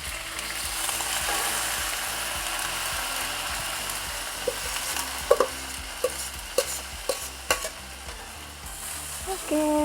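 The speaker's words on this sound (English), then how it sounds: "Then we add in the rice." Garlic and rice stir-fried in a pan, with a steady close sizzle and a run of sharp scraping stirs toward the end.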